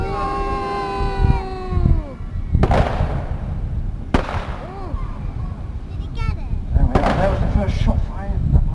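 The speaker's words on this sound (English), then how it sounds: "the enemy submarine has decided to fire on the British Pride with her deck guns" Model submarine deck guns fire during a naval battle show on the lake at Scarborough's Peasholm Park in 2002: two sharp, loud bangs ring out over a busy outdoor crowd, with whistling tones and voices talking throughout.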